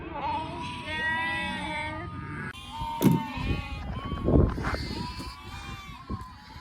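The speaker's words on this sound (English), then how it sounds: "You can see the ewes are not looking great" Ewes and lambs bleat steadily in crowded lamb marking pens after a tough season, several overlapping calls near and loud, with scuffling movement and brief talk mixed in.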